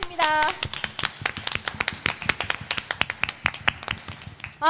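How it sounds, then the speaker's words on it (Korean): Children clapping in praise during an online church service for a Sunday school youth group, a run of sharp, fairly close claps at an uneven pace, with a voice heard at the start. "우리의 기쁨 되시는 주님께 감사와 영광의 박수 올려드리겠습니다."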